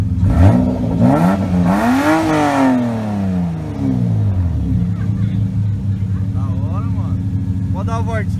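A Toyota Supra engine revs hard while drifting in Japan, rising and falling in loud sweeping pitch with a throaty rumble, as people talk nearby over the car's noise.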